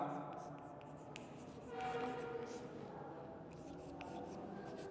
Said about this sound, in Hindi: अगला 6ठा पॉइंट मैं यहाँ लिख रहा हूँ।